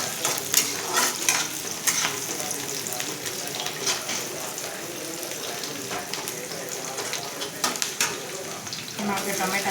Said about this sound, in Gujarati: ડુંગળી થોડી વાર ફ્રાય થઈ જશે